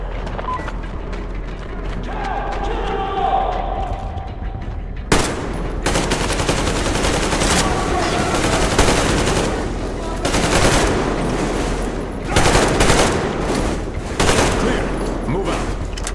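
Sustained covering fire in Metro Exodus, the Two Colonels DLC: heavy machine-gun bursts rattle loudly and almost nonstop after a quiet opening, with soldiers' voices shouting under the shooting.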